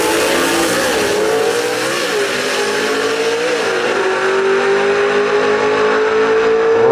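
Dirt Man Camaro gasser race car roaring at a South Carolina drag strip, its engine holding a loud, sustained, slightly wavering pitch close by for the whole stretch, with no voices over it.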